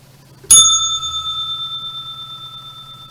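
A single bright bell strike as a trading-session bell rings out clearly, then a long ringing tone that slowly decays with a faint pulsing shimmer.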